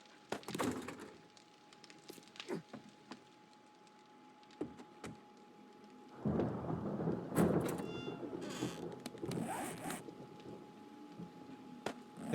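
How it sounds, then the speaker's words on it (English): Rain and thunder in the survival video game 7 Days to Die: a steady wash of rainfall swells midway, with deep rolling thunder and scattered sharp cracks and thumps throughout, no talking. "The rain pours down on my poor broken home."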